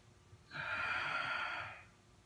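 A long, steady breath pushed out through the mouth or nose during a breathing crunch mobility exercise, close and soft, rising quickly, holding for over a second, then fading, with no talking.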